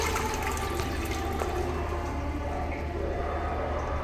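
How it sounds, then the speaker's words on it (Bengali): A floor-mounted toilet flushes, with a steady, loud rush of falling water filling the whole stretch and a hint of talk underneath. "দেখুন ফ্ল্যাশটা করছি, কভার করছে, জল পড়ছে"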